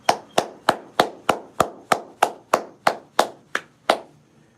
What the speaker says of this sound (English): Let's clap it up for Russ.